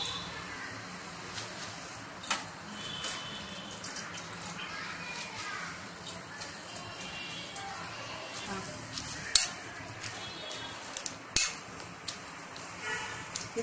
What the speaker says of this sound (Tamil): இந்த பாலக்கீரையை பசலக்கீரையை இதில் போட்டு நல்லா வேக வைக்கும்